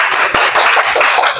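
Classroom audience clapping after a group presentation, a short burst of dense hand claps, near and fairly loud, with no talk over it.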